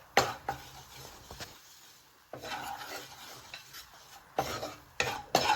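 Flour being stirred into melted butter in a pan, bursts of close scraping and clinking from a spoon against metal separated by quiet pauses, with a soft sizzle beneath.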